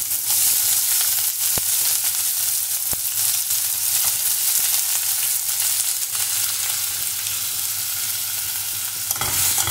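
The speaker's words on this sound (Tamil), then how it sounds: "நல்லா ஃப்ரை பண்ணிக்கலாம்." Two onions fry loudly in a pan for chicken curry, a dense continuous sizzle with a few brief knocks of stirring, close and steady throughout without speech.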